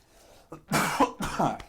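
A man with a lingering cough from COVID lets out two or three rough, close coughs in quick succession, abrupt and fairly loud, with no speech alongside.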